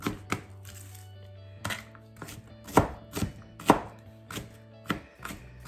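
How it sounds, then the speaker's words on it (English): Onions for Southern purple hull peas are chopped with a knife on a board, giving a series of sharp, close, separate thunks in an uneven rhythm, around nine strikes with short pauses between them, with no talk. "So I'm just chopping it."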